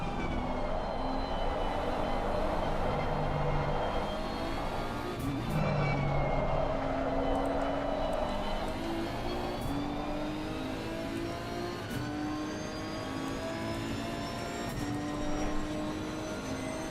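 Racing cars including a Ferrari lapping Indianapolis in a sim racing game, several high-revving engines whining together with rising and falling pitch as they shift gears, steady and prominent throughout.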